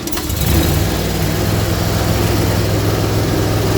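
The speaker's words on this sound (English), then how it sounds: "let me start the machine." A Vermeer SC362 stump grinder engine starts and settles into a steady, loud, throbbing run close by, a rough low drone with a clattering mechanical rattle throughout.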